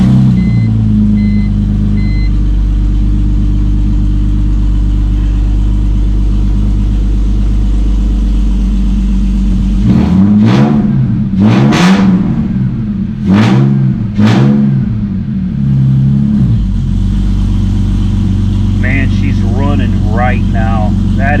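A BMW 325xi with new oxygen sensors and spark plugs starts up, idles, then revs in four sharp bursts before settling back, with voices talking nearby throughout.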